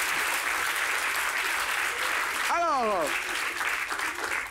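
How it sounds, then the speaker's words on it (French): A studio audience at a talk show bursts into loud, sustained clapping that fills the room, while a voice speaks briefly over it partway through. "On peut l'applaudir très fort."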